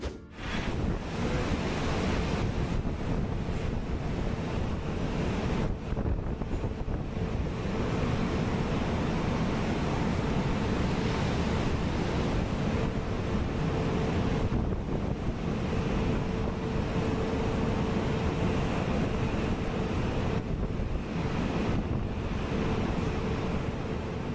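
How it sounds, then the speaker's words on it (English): Heavy North Sea surf with massive waves crashes and roars continuously, with strong wind buffeting the microphone throughout; no voices. "the North Sea, which regularly sees waves like this"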